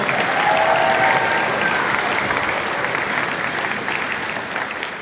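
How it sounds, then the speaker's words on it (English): Parents and families at a middle school spring band concert applaud the students in a loud, sustained round of clapping that tapers slightly toward the end, with no speech over it. "Round of applause for you"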